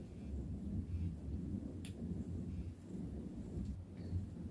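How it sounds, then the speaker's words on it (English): Heavy, steady rain pours down on a rural farm in Meru, a dense continuous wash of noise with a couple of brief higher crackles, sounding close and loud throughout. "It's raining here, like serious raining."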